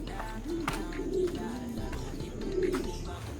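Racing pigeons coo in a loft, soft repeated low cooing calls close by, with faint rustling and background murmur.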